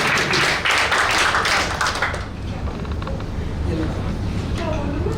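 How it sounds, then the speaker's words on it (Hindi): Audience applause at an anniversary celebration in Delhi, a dense burst of clapping for about two seconds that fades as talk takes over. "जोरदार ताली"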